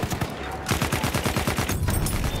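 Rapid automatic assault rifle fire in Battlefield 1, a dense rattling burst of close, loud shots in a steady rhythm after a brief pause near the start.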